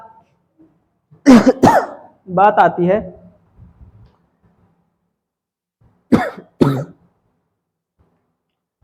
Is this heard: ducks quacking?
no